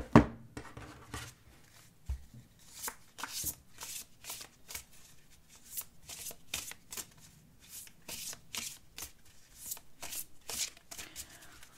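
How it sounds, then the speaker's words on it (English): Oracle cards being shuffled and laid out on a table, a steady run of quick papery riffs and soft slaps filling the whole stretch, close and clear with no talking. "I'm going to go ahead and lay out these cards"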